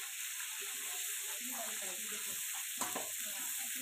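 Garlic fried chicken coated in tapioca flour fries in hot oil, giving a steady, close sizzling hiss with crackles and a brief clatter as the pieces are turned.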